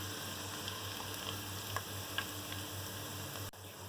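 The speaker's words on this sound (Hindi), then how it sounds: "प्याज का कलर गोल्डन होने तक हमें इसे फ्राई करना है" Onions frying over a medium flame in a pan for chana pulao, giving a steady, soft, even sizzle with faint ticks of oil. There is no talking.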